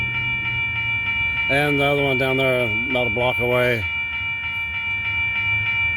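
A freight train on a siding track sounds a long multi-tone horn blast of about two seconds, loud and close, over steady rail rumble, with a person speaking briefly nearby.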